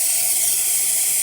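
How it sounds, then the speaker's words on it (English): A loud, steady hiss of steam jets from a Rancilio espresso machine's newly serviced steam wand, constant and close throughout the short burst. "you can see nice steady steam coming out of the machine"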